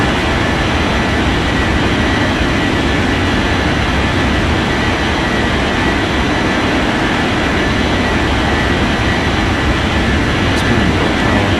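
A jet airliner in the air traffic control game Unmatched Air Traffic Control roars through its takeoff, a loud, continuous broadband engine rumble that holds steady throughout.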